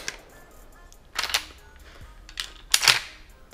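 An Ata Arms Neo 12 shotgun fires Karat slugs, heard as three sharp reports spaced about a second apart, the last the loudest, with a faint outdoor background and no voices.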